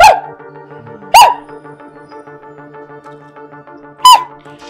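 A person imitates a dog, letting out three loud, sharp bark-like yelps spaced over several seconds, with a faint droning tone beneath and quiet gaps in between.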